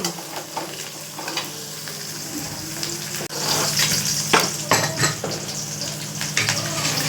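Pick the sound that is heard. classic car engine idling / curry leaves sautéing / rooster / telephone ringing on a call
curry leaves sautéing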